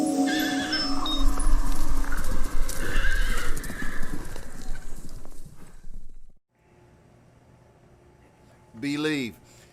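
A horse neighs and whinnies over steady clip-clop hooves and busy outdoor background noise, then after a quiet stretch a single loud, close neigh rings out alone near the end.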